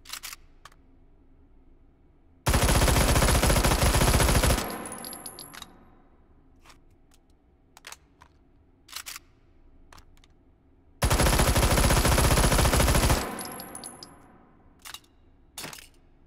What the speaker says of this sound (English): let me just shoot off a couple more rounds out of this. The Vityaz.